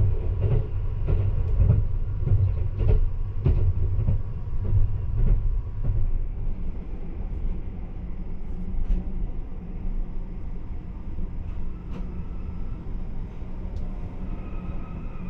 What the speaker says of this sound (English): listening to the clickety-clack of train wheels while lying in a sleeper train